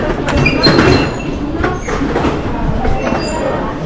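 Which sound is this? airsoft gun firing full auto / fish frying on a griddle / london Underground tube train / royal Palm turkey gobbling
london Underground tube train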